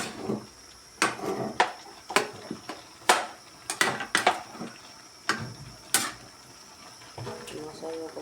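Pansit vegetables being stirred in a bowl, giving a series of sharp utensil clinks and scrapes at irregular intervals, close and fairly loud, with quieter clatter between hits.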